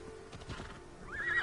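A horse whinnies with a rising, shrill neigh near the end, preceded by soft hoof clops and low rumbling in the video game Assassin's Creed Odyssey.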